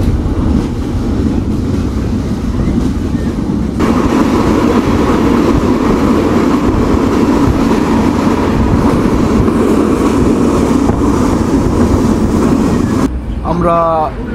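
Madhumati Express LHB coaches roll along with a loud, continuous rumble and rattle from the wheels that holds steady for most of the stretch. The noise shifts near the end as a voice speaks briefly.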